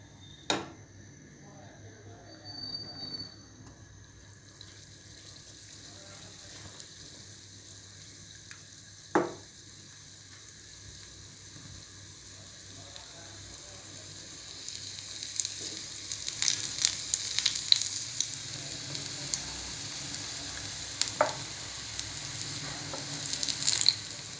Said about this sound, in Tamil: நல்லா ஃப்ரை ஆகட்டுங்க. நல்ல ஒரு ப்ரௌனிஷ் கலர் வர வரைக்கும் நல்லா ஃப்ரை ஆகட்டும்.